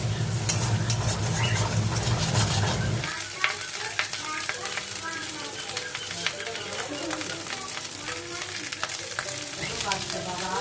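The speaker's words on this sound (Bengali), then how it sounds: "আমি স্নান টান করে এসে উচ্ছে আলুটা গরম গরম ভাজছি" Bitter gourd and potato pieces fry in a hot pan with a loud, steady sizzle that runs the whole time, with a low rumble beneath it for the first three seconds.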